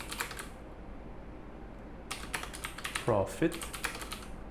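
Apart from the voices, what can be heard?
typing on a computer keyboard in a spreadsheet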